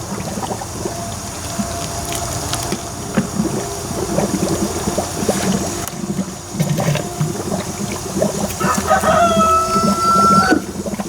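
A rooster calls loudly and repeatedly, with clucking fowl and a steady wash of bubbling, gurgling water noise running beneath the crowing throughout.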